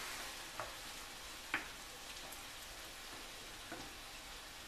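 Garlic sizzles in a frying pan for a Mexican-style Veracruz fish dish, a quiet, steady hiss broken by a few faint pops and light clicks, with no talk.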